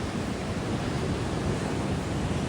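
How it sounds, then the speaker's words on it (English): Ocean surf rolling onto a Cornwall beach in a continuous loud wash of noise, mixed with heavy wind buffeting the microphone and no voices. "the waves are not optimal"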